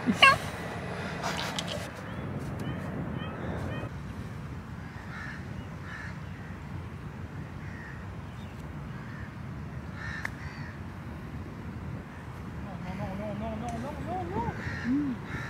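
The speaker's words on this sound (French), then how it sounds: "On dirait un oiseau qui miaule." Distant crow-like caws from a bird repeat at intervals, some sounding like a cat's meow, over a low steady background hum with occasional voices on the Dubai Creek golf course.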